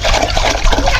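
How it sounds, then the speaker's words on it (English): Water poured into a cooking pot while cassava leaves are cooked at home in South Sudan, a steady continuous splashing pour running through the whole moment with no pauses. "She's pouring water."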